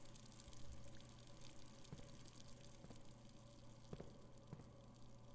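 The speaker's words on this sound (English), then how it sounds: "Oh, because I left the faucet on in the kitchen." Water running steadily from a kitchen faucet in a video game house, a continuous quiet gushing stream with a low steady hum beneath and a few faint clicks.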